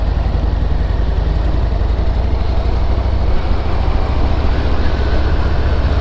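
Harley-Davidson Street Bob motorcycle engine running on a motocross ground, a loud, steady low-pitched rumble that stays close throughout with no talking.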